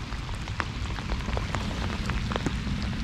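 Steady rain falling outdoors during a fishing trip, a dense continuous patter with scattered louder drops and no voices.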